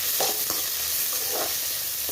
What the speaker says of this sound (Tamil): இப்போ இந்த வெங்காயத்தை வந்து நல்லா மிக்ஸ் பண்ணி விடுவோம்.